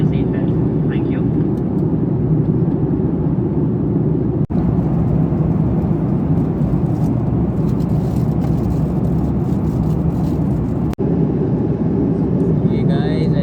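Steady, loud broadband roar inside the cabin of an Akasa Air passenger jet in flight between Delhi and Hyderabad, a constant low droning hum with two brief clicks.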